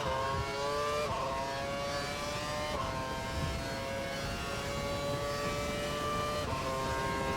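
An F1 racing car engine in a video game revs steadily and loudly, with rising pitch sweeps broken by quick gear shifts roughly every second or two, continuous and close with no talking.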